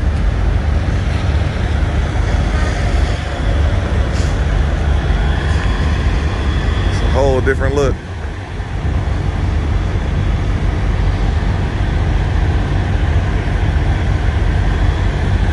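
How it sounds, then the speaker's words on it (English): A Kenworth T660 semi truck with an ISX engine drives down the road, giving a continuous, loud engine and road drone throughout, with a short spoken remark partway through. "I love the way this truck sounds though when you're going down the road"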